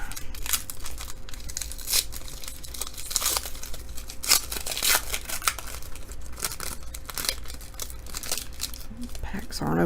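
2018 Illusions football trading card packs being torn open, with repeated crinkling foil wrapper rips and rustles close to the microphone, and a voice talking over them.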